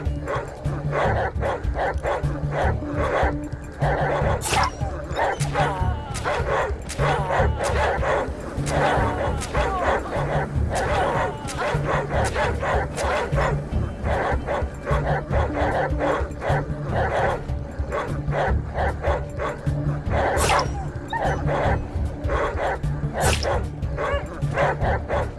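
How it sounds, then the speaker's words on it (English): A hostile dog in the post-apocalyptic RPG Atom RPG: Trudograd barks, yips and whimpers repeatedly throughout a long stretch of game combat, loud and close, with clanging hits and game sounds mixed in. "I still haven't killed the one dog."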